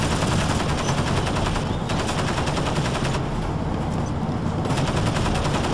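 Dense, continuous automatic gunfire rattles nonstop in Crysis Warhead, with rapid machine-gun bursts and scattered shots aimed at the player, loud and close throughout with no pauses.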